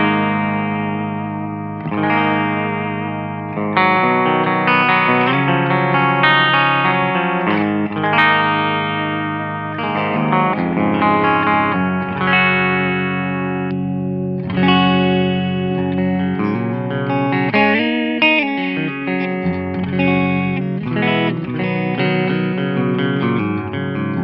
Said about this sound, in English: this is just the complete dry clean tone with just a tiny little bit of reverb